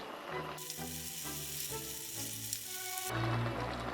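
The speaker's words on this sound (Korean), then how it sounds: "이렇게 해서 조금 끓여줘야 돼요" A pan of cheese brown-rice tteokbokki with cabbage, green onion and garlic sizzles and bubbles steadily, with a soft tonal hum running underneath.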